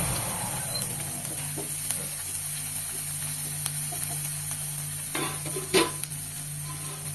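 Tomato added to a pan of spicy sweet corn in butter, giving a steady, moderately close frying sizzle and hiss with a few brief stirring clatters near the end; no talking.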